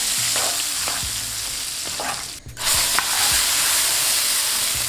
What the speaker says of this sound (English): When the oil is nice and hot in with your garlic, let this cook until nice and golden brown.